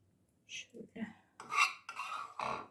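A metal spoon scrapes and taps in short, separate bursts while scooping spices and spreading them over fish for baking in the oven. The sound is close and fairly quiet, with several scrapes and clinks close together.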